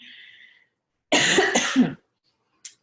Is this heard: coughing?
yes